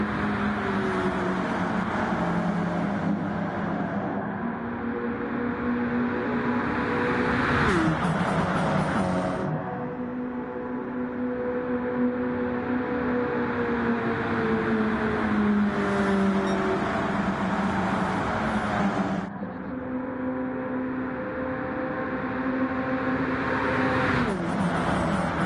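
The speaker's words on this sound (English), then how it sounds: "goes 3 wide with Kyle Petty" NASCAR stock cars race at Daytona in Gran Turismo 7, a continuous loud multi-car engine drone with rising and falling pitch as cars shift gears and pack together three wide.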